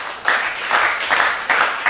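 A congregation at an evening prayer vigil applauding, a brief burst of dense clapping that swells in short waves.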